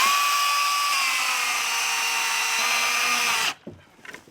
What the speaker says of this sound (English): Wow, that's that chainsaw you were telling me about?